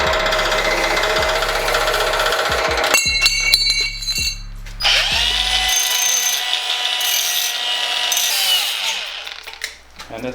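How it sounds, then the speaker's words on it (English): A bandsaw cuts through a steel downpipe in a workshop, starting as a harsh grinding drone, then a brief clinking, then a steady, loud high-pitched cutting whine that fades out at the end, with some speech mixed in. "throw it on the bandsaw"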